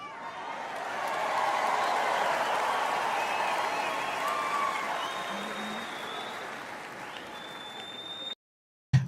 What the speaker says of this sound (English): He said 3 people were clapping